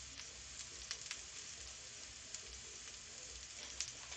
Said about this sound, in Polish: Jeszcze 3 minutki muszę brukselki podsmażać.